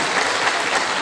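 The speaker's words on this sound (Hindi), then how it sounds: "एक मरतबा ताली बजा दे गौ माता के सम्मान में" Dense audience clapping fills a poetry gathering, a loud steady burst of applause from a crowd at a kavi sammelan.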